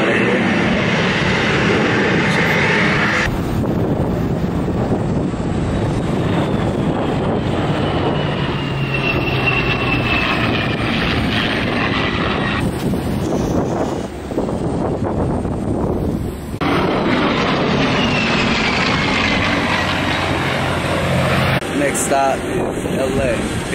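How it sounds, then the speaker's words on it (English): Aircraft fly over at an air show, with a loud, sustained engine roar and whine shifting in pitch as planes pass, along with heavy wind noise on the microphone and a voice talking over it. "We got an air show going on right here."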